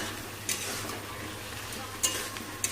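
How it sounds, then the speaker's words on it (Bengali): Chickpeas fry and sizzle in a pan as they are stirred, a steady close crackle broken by a few sharp scrapes of a utensil against the metal. "এবারে কাবলি ছোলাটা দিয়ে দিলাম, দিয়ে এটা একটু কষাবো"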